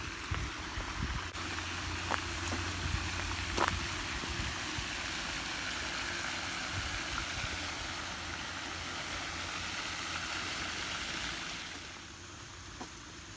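A car engine idles with a steady, even rumble and broad hiss that fills the whole stretch, easing slightly toward the end, with no one speaking.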